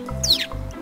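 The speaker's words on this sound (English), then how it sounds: "Look, guys! The birds are acting strange!" Cartoon birds give a quick, bright chirp, a short rising-and-falling tweet over a low background hum, close and fairly clear.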